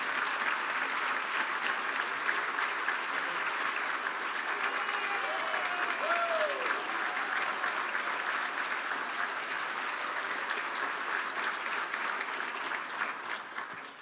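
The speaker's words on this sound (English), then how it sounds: "Let's give them all a round of applause." Audience at a charity grand tasting event with sponsors and an auction, applauding in a dense, sustained wash of clapping that holds steady for the whole stretch before tapering off at the end.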